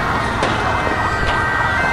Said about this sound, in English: Some of the police trucks fire water from their hoses and blare their sirens to force the protesters back.